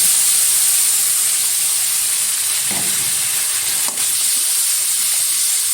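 Ground paste of ginger, onion, garlic, cumin and chili frying in hot oil in a pan for a Bengali crab curry, a steady bright sizzle throughout with a couple of soft utensil taps, close and loud.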